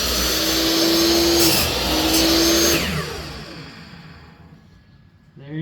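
Dewalt 10-inch 15 amp single-bevel compound miter saw running loud and steady up close, with a whining motor tone that dips briefly, then winds down and fades over the last few seconds.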